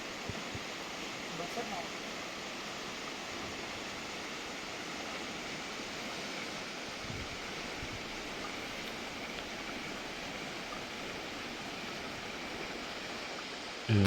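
Steady rushing river water flows without pause, a broad continuous wash of noise like a river current heard up close.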